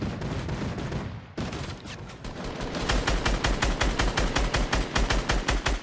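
Turret gunfire in the video game Fortnite: loud rapid bursts of automatic fire, building into a fast, evenly spaced stream of shots over the second half.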